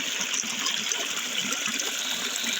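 Water flows steadily on a farm, a constant gushing rush that holds at an even level for the whole short stretch, with no voices over it.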